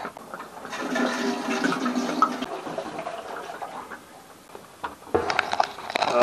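Maple sap is poured from a pot through a cooking strainer into a boiler pan, a loud splashing gush of liquid that eases off briefly before a second strong pour.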